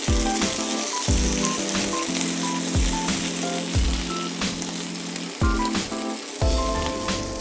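Spicy bubble and squeak patties fry in a pan with a steady, dense sizzle and crackle, with repeated low thumps and brief tonal clinks from moving the pan or utensils.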